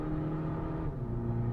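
A tuned Stage 3 Skoda Laura pulls hard in third gear, its engine droning loudly and steadily from inside the cabin as the pitch shifts partway through, with no talking.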